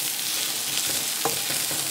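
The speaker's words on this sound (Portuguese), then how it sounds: "Olha o barulhinho da cebola fritando." Onion and sausage sizzle steadily in a frying pan, with a few soft scraping stirs breaking into the constant close crackle and no talking.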